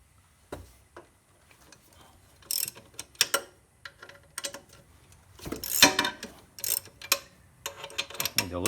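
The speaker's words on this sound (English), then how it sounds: "Okay, found an 18mm socket." An 18mm socket on a ratchet loosening nuts on a quad bike, giving scattered bursts of close ratcheting clicks with uneven pauses and some light handling knocks in between.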